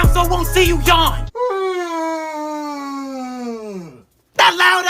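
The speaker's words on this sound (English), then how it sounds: "That loud ass yawn." One long, loud yawn from a person, its voiced pitch sliding slowly downward for about three seconds. Brief talking comes just before and right after it.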